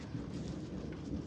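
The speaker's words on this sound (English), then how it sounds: "And it's still thundering, still raining." A thunderstorm: a dense wash of rain with low rumbling thunder underneath, loud and continuous, with no voices.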